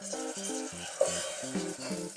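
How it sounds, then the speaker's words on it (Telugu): Potato pieces stirred into hot oil in a pan while making a beans and potato curry, with a soft sizzle and a few light scrapes from the spoon over a short stretch, and no talking. "ఆలుగడ్డ ముక్కలు వేసుకొని కలుపుకోవాలి."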